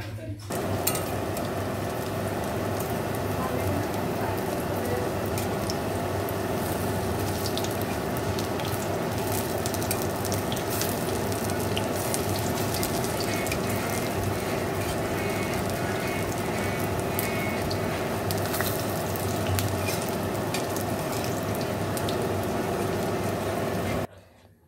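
Bora fritters deep-frying in a pan of oil, giving a steady, close, crackling sizzle that runs unbroken for about twenty-five seconds with no talk over it.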